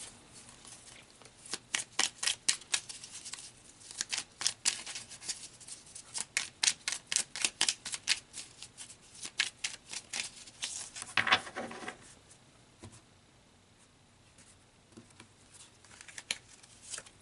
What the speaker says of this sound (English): So let's pull out some tarot cards.